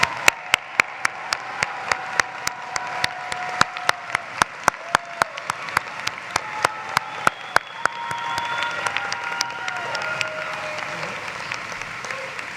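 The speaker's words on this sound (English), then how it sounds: "Let's give a round of applause for our honors graduates." Applause rises from a commencement crowd in an arena for honors graduates, with one nearby pair of hands clapping in a sharp, steady beat over a softer background of clapping and faint voices.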